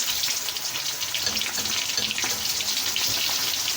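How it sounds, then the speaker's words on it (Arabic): Chicken pieces dropped into very hot frying oil give off a loud, steady, dense hiss and crackle that holds level throughout, close up and with no speech. "ودلوقتي الزيت عندي اهو سخن جامد. هبدأ اضيف عليه"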